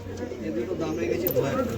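Pigeons cooing softly inside a loft, low murmuring calls against a faint background hum, with no one talking over them.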